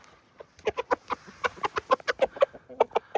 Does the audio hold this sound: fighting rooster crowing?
yes